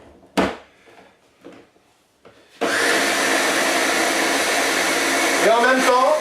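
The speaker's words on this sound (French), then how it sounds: "puisque mon mixeur va tout broyer" A kitchen blender grinding ingredients into homemade bouillon powder starts after a few small knocks, then roars loud and steady for several seconds with a shifting whine near the end.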